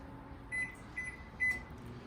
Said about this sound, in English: We're putting it in the microwave and putting it for 30 seconds at a time